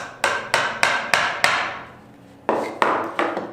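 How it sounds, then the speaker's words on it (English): Hammer tapping a nail into a thin, soft wood board for string art, eight sharp, evenly spaced knocks in two bursts separated by a brief pause, close and clear. "this wood is pretty soft, and I'm just gonna give it a few taps"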